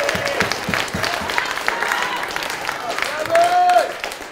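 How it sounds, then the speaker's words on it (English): Wedding guests applaud in a castle barn reception hall, a steady wash of clapping that swells briefly near the end, with voices mixed in. "I think we need to give Sam another big round of applause, ladies and gentlemen."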